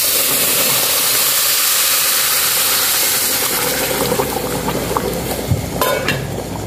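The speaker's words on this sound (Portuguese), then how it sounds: "Já fritamos ele, já colocamos a água." Water poured into sautéed rice with garlic in a hot pan, producing a loud, steady steaming hiss and bubbling sizzle that gradually settles, with a few clinks near the end.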